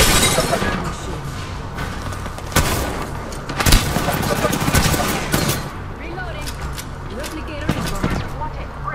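Mastiff shotgun fire in the Apex Legends video game, loud sharp blasts with other bursts of in-game gunfire around them, under a player's voice talking.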